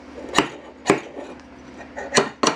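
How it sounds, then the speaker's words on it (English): Four sharp metallic strikes land at uneven intervals, a chisel knocking and chipping against metal on a Datsun 521 ball joint, close and fairly loud. "most of this stuff you could just chip off with a chisel"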